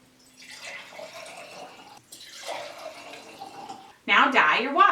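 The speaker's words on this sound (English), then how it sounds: "Fill your jar with water. You'll want to fill them up probably at least halfway." Water runs into a jar from a tap with a steady, soft pouring hiss that rises in pitch as it fills, ending with a louder splashy burst.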